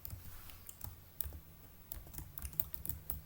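Code typed on a computer keyboard: a quick, irregular run of close, crisp key clicks and taps with short pauses, no voices.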